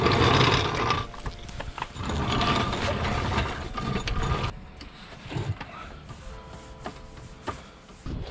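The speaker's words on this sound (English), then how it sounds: "we'll remove the last few bolts and get this gearbox out" Ratchet work on the gearbox bolts of a Ford Mondeo Mk4 during a clutch job: close, busy mechanical clicking and clattering, dense for several seconds, then sparser, lighter clicks.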